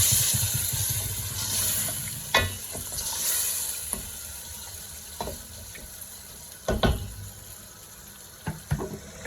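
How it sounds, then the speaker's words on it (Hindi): Chicken sizzles and fries in a pan for chicken pulao, a steady close frying hiss broken by occasional sharp clatters of stirring and utensil knocks. "अब हम इसमें डालेंगे चिकन और चिकन को थोड़ा फ्राई कर लेंगे।"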